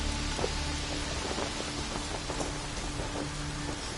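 Heavy rain pours down in the video game Skyrim, a dense, steady hiss with scattered drop impacts that stays constant and fairly loud throughout.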